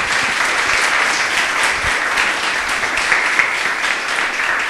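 A church congregation claps in praise during a pastor's sermon, loud dense applause that holds steady and continuous throughout.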